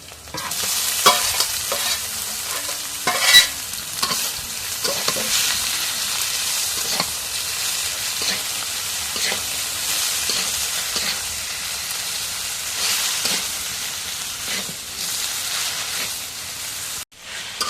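Kalmi shak, leafy water spinach, fries in oil over fried green chilli, onion and garlic, giving a steady close sizzle with scraping stirring strokes throughout and no talking.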